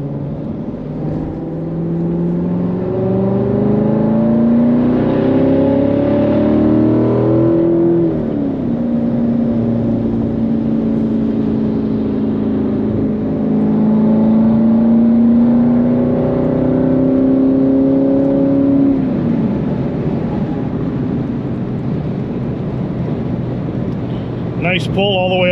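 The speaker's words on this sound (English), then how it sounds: "Nice pull all the way up to seventh gear." C7 Corvette with an Akrapovic exhaust accelerating hard through the gears, a loud steady engine drone rising in pitch with each gear then dropping at shifts, heard from inside the car with a brief voice at the end.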